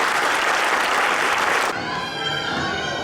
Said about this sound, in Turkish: Kuvvetli alkışlar sizin için çocuklar.